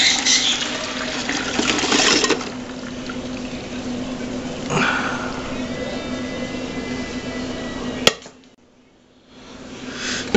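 A homemade chocolate-covered cherry wine mixture is poured from a container into a strainer, a steady close splashing and gurgling stream that tails off before a short near-silence near the end.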